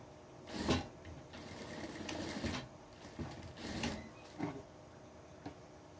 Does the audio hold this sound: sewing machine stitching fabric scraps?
yes